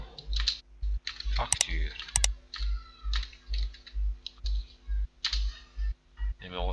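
Rapid typing on a computer keyboard while working in Excel, a close, steady run of key clicks and taps in short bursts, with a voice speaking French over it.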